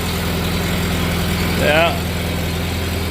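A Farmall tractor engine idles indoors with a steady low throbbing rumble and a rhythmic pulse, loud and close, while a brief voice speaks over it.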